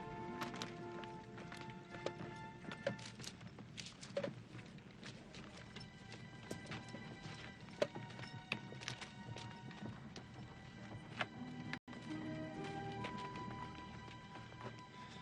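Horse hooves clip-clop at a steady pace, fairly faint, amid outdoor ambience with a few scattered knocks and clanks.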